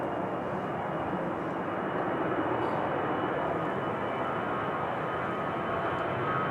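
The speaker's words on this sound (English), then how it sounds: "EasyJet 727 to Jersey now, GZWD and A320 Classic." An easyJet Airbus A320, registration G-ZWD, bound for Jersey rumbles at windy Manchester Airport, its jet engines producing a steady, loud, broadband roar that holds constant throughout.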